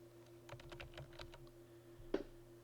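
Quiet typing on a computer keyboard in Microsoft Word, a quick run of about eight keystrokes followed by a pause and one louder final key tap.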